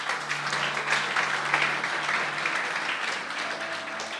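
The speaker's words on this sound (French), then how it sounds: "On applaudit, bon Dieu." A church congregation applauding steadily for several seconds, a dense sustained patter of many hands filling the room, fairly close with no clear speech over it.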